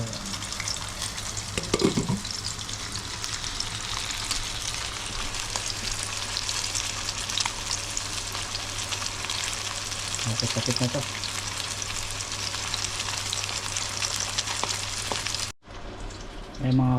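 Sinabawang tampano soup cooks in a covered pot, giving a steady, close hiss of bubbling and sizzling throughout, with a couple of brief clinks and a sudden cut near the end.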